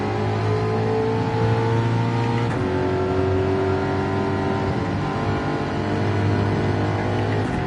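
Race car engine in a racing video game drones loud and steady with clear harmonic tones and a gear change near the middle, pitch stepping down and then climbing again, no voices.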